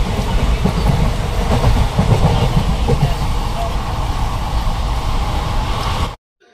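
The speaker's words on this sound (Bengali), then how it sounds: "তারপর আমরা ট্রেনে উঠি।" Steady rumble and rattle from inside a moving railway carriage on a Kolkata to Malda train run, with faint rhythmic clacking under a constant roar, cutting off abruptly near the end.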